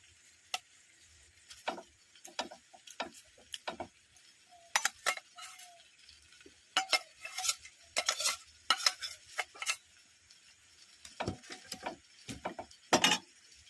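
Chicken curry with ginger paste being stirred in a pot, with irregular scraping and metallic clinks of a spoon against the vessel, close and distinct, in bursts separated by quiet pauses.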